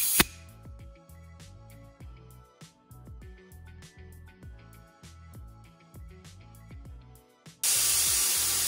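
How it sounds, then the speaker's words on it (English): Air released from a garage air compressor through an airline: a loud, steady rushing hiss starts abruptly near the end and stays strong, after a stretch of quieter, busier sounds. "it's really loud in here because I'm letting the air out of my compressor"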